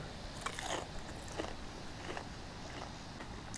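Faint crisp bites and crunching chews on crispy fried fish by a river, a few separate crunches spaced through a short quiet stretch.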